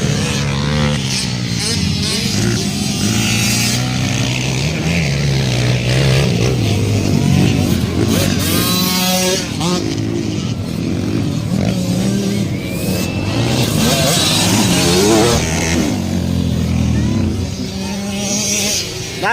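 Racing motorcycles revving and roaring past at a race, loud rising and falling engine whine running continuously under excited commentary.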